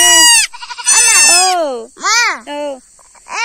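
A goat bleats loudly and close by, several wavering cries in a row with short pauses between them.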